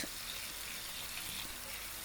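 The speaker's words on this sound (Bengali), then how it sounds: "তেলের মধ্যে আমি সাবুত জিরা জিরাটা ফুটে উঠলে আমি দিয়ে দিচ্ছি পেঁয়াজ এবং কাঁচামরিচ" Onion and green chili fry in a frying pan of oil with whole cumin seeds, giving a soft, steady sizzle that stays faint and even from start to finish.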